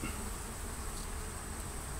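A dense, steady buzz of many honey bees fills the air as a hive is removed, constant and even throughout with no pauses or voices.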